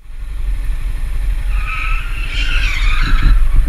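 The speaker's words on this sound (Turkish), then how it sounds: "Sonra arkadan cayırtı geliyor." Tires of an older-model car screech loudly from behind at a traffic light, a sustained skidding squeal over heavy engine and road rumble.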